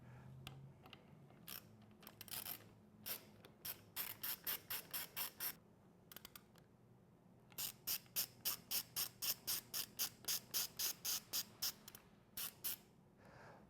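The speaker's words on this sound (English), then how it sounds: "We're going to start by removing the two screws holding the top of the control housing in place." Small screws are backed out of the control housing on a motorcycle handlebar grip, with faint rapid clicks in several bursts of quick, regular ticking between pauses, close and quiet without speech.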